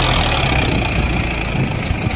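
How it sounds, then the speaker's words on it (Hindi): A Powertrac 60 CRDI tractor engine runs loud and steady while the tractor turns, a continuous close diesel drone with rough low-end pulsing. "ट्रैक्टर टर्न मार रहा है लेकिन एक टर्न पूरा नहीं हुआ, उसके पहले ही बुझ गया।"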